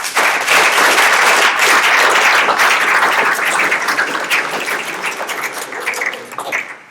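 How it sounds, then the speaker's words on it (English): A conference audience applauding the panelists, dense sustained clapping from a large crowd that holds loud for several seconds and then tapers off toward the end. "let's give our panelists a round of applause"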